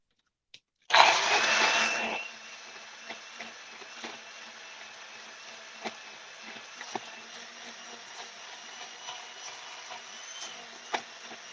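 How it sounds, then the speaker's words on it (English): A blender whirs loudly for about a second, then settles into a quieter steady drone with small ticks and clicks running through it. "So here we go with the blender again."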